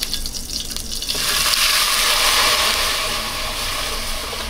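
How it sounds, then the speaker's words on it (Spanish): Milk being poured into a blender while making cilantro cream, heard as a steady rushing splash that swells after the first second and then holds, loud and close. "vamos a verter lo demás de leche y licuamos"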